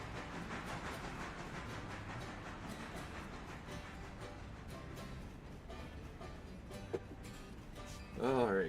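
Train rolling on rails in the Railroader video game, a steady low rumble with clicking and hiss throughout, a brief knock near the end and a louder burst at the close.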